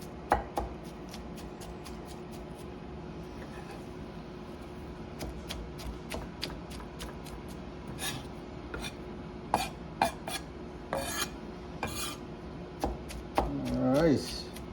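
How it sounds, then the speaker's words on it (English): Coarse chopping and mixing of spring roll filling with a cleaver on a board: sharp, irregular knocks and taps, some in quick clusters, close and moderately loud over a faint steady background hum, with scraping near the end. "that cleaver is really good for mixing. Mixing and chopping. So it's just really a coarse chop here that we're doing."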